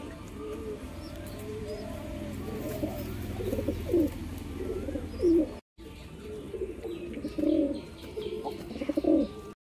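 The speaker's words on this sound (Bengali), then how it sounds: "পায়রা কিন্তু ডাক করছে, নটটা পুরো গরম রয়েছে, একদম মস্তি মুডে।" Deshi Giribaz and Madras breed pigeons coo repeatedly at close range in throaty, rolling phrases mixed with light chirps. The cooing swells in louder bursts over a steady background and pauses briefly partway through.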